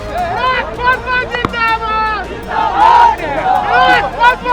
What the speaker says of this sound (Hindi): सैकड़ों की भीड़ अपने नेता को देखने पहुंची थी